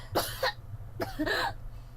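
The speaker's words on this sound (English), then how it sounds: "Oh god, she's coughing up pea soup," Two harsh coughs from a woman in a video game, a second apart, close and fairly quiet, with a low hum underneath.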